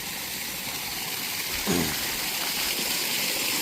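Water pouring from a pipe into an open well on farmland, a steady loud rushing gush with no talking.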